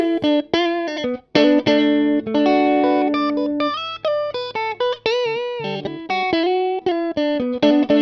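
Overdriven electric guitar through a Vox AC30 valve amp in a studio, playing a bright, chimey lead line with sustained bent notes and chords, with a touch of reverb.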